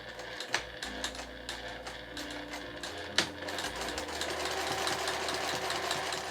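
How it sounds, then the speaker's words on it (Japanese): A sewing machine stitches a seam one centimetre in from the edge of cotton cloth, its rapid mechanical needle chatter starting and stopping in bursts and then running steadily, with small clicks and no talk. "このめくった状態で端から端まで1センチを縫います。"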